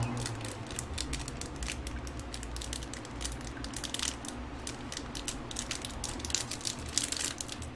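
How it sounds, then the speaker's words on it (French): Paper crinkles and crackles steadily and close up while a Wootbox subscription box from September 2017 is unboxed, with no talking. "je suis désolé pour le bruit du papier"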